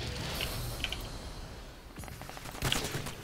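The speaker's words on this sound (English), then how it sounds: "Oh, the sniper is so fun to use." Gunfire from a sniper rifle in the video game Call of Duty Online comes as a few sharp, distant-sounding cracks over busy game background noise, with a clearer shot near the end.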